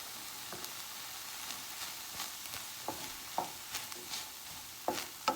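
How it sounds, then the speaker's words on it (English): Onions frying in a pan for stuffed peppers hiss quietly and steadily, broken by intermittent scraping stirs and small clatters toward the end, with no voices. "I'm gonna go in with the onions."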